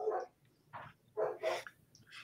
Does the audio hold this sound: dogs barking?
yes